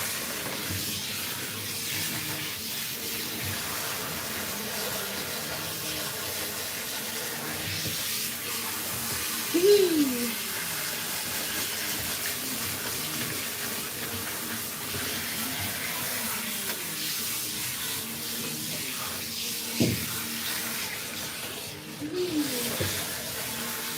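Water running steadily from a tap over a small Persian cat being rinsed in a bath, a continuous splashing hiss close by, with a few brief faint squeaky cries breaking through.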